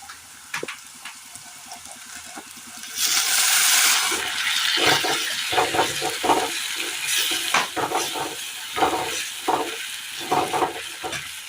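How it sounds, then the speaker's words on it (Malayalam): Cooked dal goes into a curry pan and is stirred, giving wet sizzling and sloshing with spoon scrapes against the pan, louder once the dal hits the hot oil. "ഈ സമയം നമുക്ക് ഇതിലേക്ക് വേവിച്ച് വെച്ചിരിക്കുന്ന പരിപ്പ് ചേർത്ത് കൊടുക്കാം."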